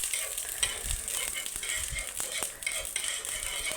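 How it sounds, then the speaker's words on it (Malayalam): Ghee sizzling in a hot pan before bread is toasted, a steady close crackling hiss with light clinks and rattles, no voices. "ഒരു പാൻ വെച്ച് കൊടുത്ത് നമുക്കതിലേക്ക് നെയ്യ് ചേർത്ത് കൊടുക്കാം"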